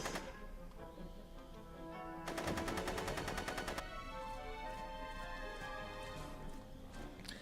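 A fast burst of gunshots in Back to the Future The Game, a Telltale adventure game, rattles out for about a second and a half over a soft musical background, with no talking.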